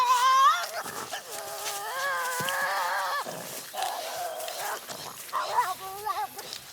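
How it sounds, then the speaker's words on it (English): A Tasmanian devil screeches at full intensity during an escalating confrontation, a loud, harsh, wavering series of cries with sharp rising and falling pitch, broken by brief gaps and grunting bursts. "Then full-scale screeching."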